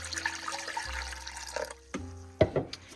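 Water poured into a pressure cooker while preparing a cheap meal, a short splashing stream with a few sharper pours and drips, close and alone with no talk.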